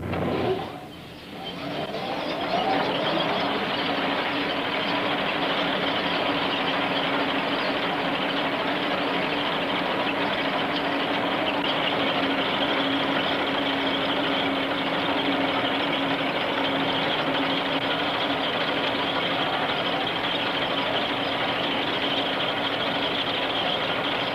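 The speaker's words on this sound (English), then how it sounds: "you're going to start the borer up, and you're going to do some actually cutting on the side" A borer machine starts up and runs steadily through side cutting, a continuous loud mechanical drone with a sustained hum, heard alone without talk for most of its length.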